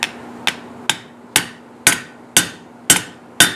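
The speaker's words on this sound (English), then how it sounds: "I want to tap this to seat it, and I can't get my hammer head down in there" A hammer taps a trivet down to seat it, seven sharp metallic strikes at a steady, slightly uneven pace about half a second apart, each ringing briefly, close and loud over a faint steady hum.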